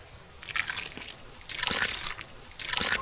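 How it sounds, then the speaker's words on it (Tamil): Tamarind water poured into sambar rice, a soft liquid trickle and slosh in three short bursts of splashing, close and moderately quiet, with no talking. "இது கூட புளி தண்ணி சேர்த்துக்கலாம்"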